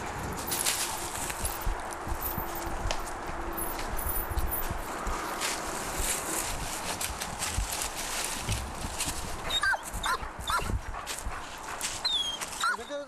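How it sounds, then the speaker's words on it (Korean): A rescue dog barks during a search-and-rescue training exercise for buried people, with scattered barks and whimpers among rustling, movement and outdoor noise, while people talk nearby. "인명 구조견은 구조 대상을 발견하면 짖기 반응으로 상황을 전달하게 돼 있다."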